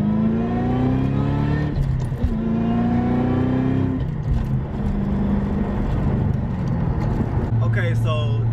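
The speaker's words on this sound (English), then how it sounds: "I knew that I would like this car a lot just because it does have the V8 rumble" The V8 engine of a Cobra sports car rumbles steadily, rising in revs with a few shifts between surges; close and fairly loud, with a brief higher whine near the end.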